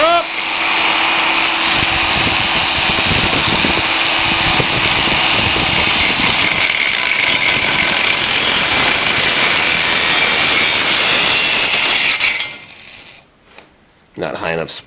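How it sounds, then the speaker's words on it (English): A cordless DeWalt grinder cuts through pipe during a lake house pump install, a loud sustained whine and grinding rasp for about twelve seconds before it cuts off, followed by brief clatter. "I'm going to cut that right there in a sec with my cordless DeWalt grinder"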